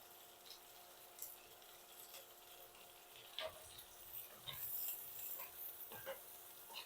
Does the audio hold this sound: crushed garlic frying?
yes